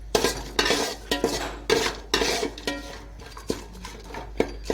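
Cashews and raisins are stirred in hot oil in a pan for Basanti pulao, irregular metal spoon scrapes and clinks against the pan over a soft frying hiss, close and alone.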